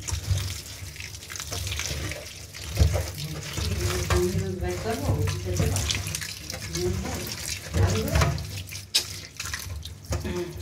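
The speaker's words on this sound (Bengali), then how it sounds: "দাঁড়ান, আগে লাউ শাকটা নিয়ে এসে ধুই" Bottle gourd greens being rinsed in a sink under a running tap, a steady close splashing flow with irregular sloshes and drips as the leaves are handled, with no talk.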